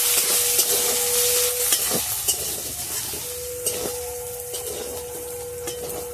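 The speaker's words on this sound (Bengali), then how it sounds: "বন্ধুরা আমি তেলের মধ্যে দুটো তেজপাতাকে কেটে দিয়ে দিচ্ছি।" Bay leaves and grated ginger frying in hot oil in a pan, a loud continuous sizzle with occasional stirring scrapes and pops, close up, no talking.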